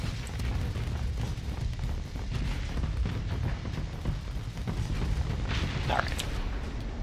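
Spaceship weapons fire of harpoons, light autocannons and dual machine guns in the Starsector game rumbles as a dense, loud, continuous barrage of overlapping booms and rapid thuds, with no clear breaks.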